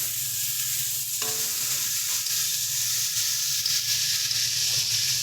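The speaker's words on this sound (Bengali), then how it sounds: "এবারে দিয়ে দেব চিংড়ি মাছ ভেজে রাখাটা।" Fried shrimp stirred into a curry with okra, sizzling steadily in a hot pan, with scraping stirs over a constant frying hiss and no talking.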